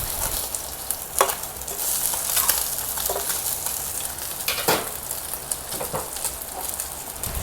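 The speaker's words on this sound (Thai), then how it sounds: "นำเนื้อปลากระพงมาทอดให้สุกก่อนนะคะ" Sea bass fillet frying in hot oil in a pan, a loud continuous crackling sizzle with occasional sharper spatters and spatula scrapes, close up and with no talking.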